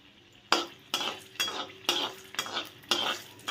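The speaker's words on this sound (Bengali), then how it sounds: "তেলটা গরম হয়ে যাওয়ার পর আমি শুকনো লঙ্কাটা তেলে দিয়ে দিলাম" Dried red chillies frying in hot oil in a pan, with a series of sharp scraping stirs of a utensil about every half second over a soft, steady sizzle; no voices.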